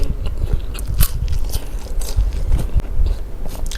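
Close, loud crunchy biting and chewing of a boiled rice-field crab, with repeated crisp cracks and scraping as the shell breaks, no talking over it.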